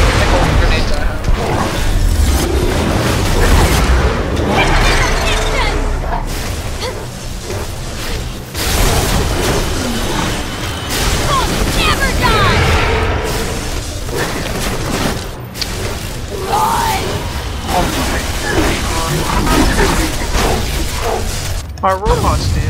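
Repeated grenade blasts and clattering gunfire in a Borderlands 2 firefight, loud and continuous bursts with booming impacts and a player talking over the chaos.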